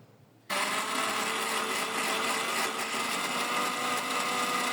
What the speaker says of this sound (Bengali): এই যে ব্লেন্ডারে জারে আমি একে একে এগুলো ব্লেন্ড করে নেব